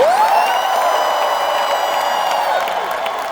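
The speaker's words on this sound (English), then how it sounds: "Clap your hands and shout if you hear this." Crowd at a large live motivational event in Edmonton cheering and shouting, with clapping mixed into a loud sustained roar that carries evenly throughout, voices rising and whooping over the din.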